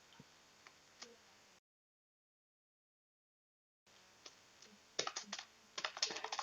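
Keys clacking on a computer keyboard while entering HTML code, a few sparse taps, then a gap of silence, then quicker, louder bursts of typing close by.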